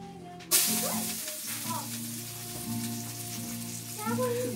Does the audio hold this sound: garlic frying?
yes